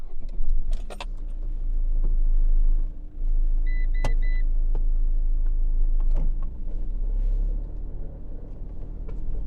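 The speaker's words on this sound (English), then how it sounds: "boot up the car." A car starting and idling, heard as a deep continuous engine rumble close by, with a brief dip near the start, scattered clicks and knocks from inside the cabin, and a whirring sound like an electric window partway through.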